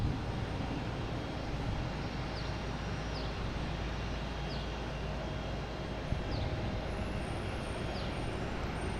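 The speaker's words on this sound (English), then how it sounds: "Next taking off is Delta 737-800 flight 2234 heading to Tampa." A Delta 737-800 airliner taking off at Boston Logan rumbles steadily from a distance, a broad low jet roar holding even throughout, with no one talking.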